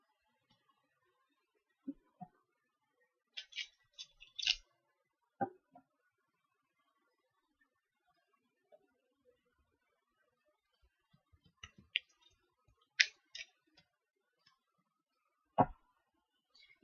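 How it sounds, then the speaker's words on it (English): Tarot cards pulled from a deck and handled: sparse, faint clicks and soft snaps scattered irregularly, close by in a quiet room, with no talking. "I'll just pull out the cards again"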